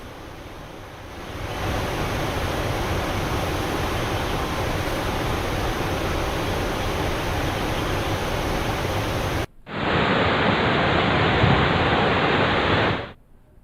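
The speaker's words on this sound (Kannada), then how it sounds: "ಧನುಷ್ಕೋಟಿ ಜಲಪಾತ ಮಳೆಗೆ ಉಕ್ಕಿ ಹರಿತಾ ಇದೆ" Roaring rush of Dhanushkoti waterfall overflowing after heavy rain, a loud continuous wash of water that cuts briefly and resumes before fading out.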